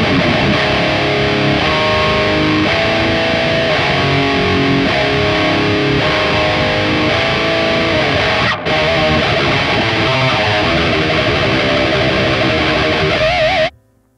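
An electric guitar plays through a Sonicake Matribox distorted amp model, loud and saturated, with chugging riffs that continue without a break until a brief dip, then carry on before cutting off abruptly at the end.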